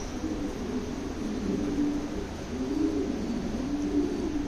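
Female American Modena pigeon cooing softly in repeated low, rolling phrases, close to the microphone over a steady hiss of background noise.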